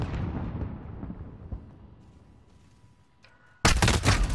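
Shotgun blasts with incendiary rounds in Call of Duty Modern Warfare: a loud burst with a decaying tail, then a quieter stretch and an abrupt, dense barrage of sharp gunfire near the end.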